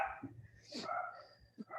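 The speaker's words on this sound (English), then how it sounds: "My dogs are upset upstairs." Several dogs barking upstairs in a home, a few muffled, distant yips and barks in irregular bursts heard faintly through the house.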